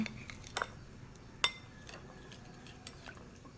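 A spoon clinks and scrapes intermittently against a pot while champorado, a chocolate rice porridge, is stirred, with a few sharp metallic taps over quiet background.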